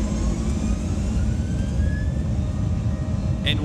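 Airliner engines in Microsoft Flight Simulator 98 roar steadily at takeoff thrust, a loud continuous low rumble with a faint rising whine, holding constant with no speech over it.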